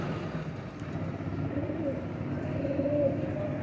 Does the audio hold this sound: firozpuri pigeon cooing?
yes